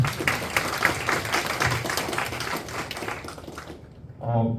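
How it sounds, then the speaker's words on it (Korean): Audience applause for a professor at a conference, a dense burst of clapping that fades out near the end as a voice begins talking. "교수님께 다시 한번 뜨거운 박수 부탁드립니다."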